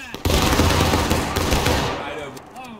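A company in the game War of Rights fires a musket volley, many shots blending into one loud, rolling roar that fades into a few scattered late shots.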